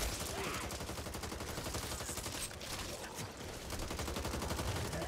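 Gunfire in the co-op zombie shooter Back 4 Blood: rapid, continuous automatic bursts rattle steadily and fairly loud throughout, with a brief dip midway.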